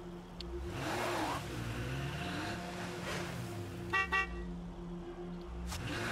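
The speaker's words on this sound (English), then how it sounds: "I can't be honking too much." A car horn honks in the video game State of Decay 2, two short toots standing out over a steady engine hum.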